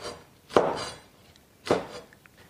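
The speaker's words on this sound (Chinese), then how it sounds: "再来2个小青椒，切成滚刀" A knife roll-cuts small green chili peppers on a chopping board with two distinct, close chops about a second apart, each a crisp thud, alone with no voices.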